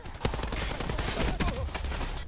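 Rapid automatic weapon spray in Call of Duty Black Ops 4 Hardpoint multiplayer, a loud, close stream of gunshots with sharper cracks standing out near the start and middle.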